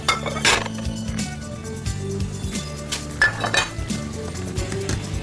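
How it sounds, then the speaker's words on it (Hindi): Cooked turnip and potato curry is served out into a dish, with repeated metal clinks and scrapes of a spoon against pots and dishware in an irregular rhythm close by. "डिश आउट कर लेते हैं।"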